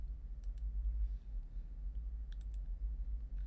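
Faint mouse clicks on a Windows computer while confirming a dialog with OK, a few sparse sharp ticks over a low steady hum.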